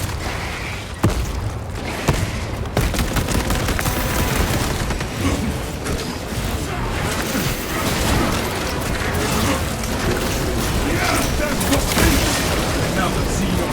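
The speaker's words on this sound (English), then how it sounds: "Throwing frag grenade!" A frag grenade blast and heavy gunfire in Space Marine 2, a dense, loud, continuous barrage of booms, bursts and clatter with a sharp thump near the start, voices mixed in throughout.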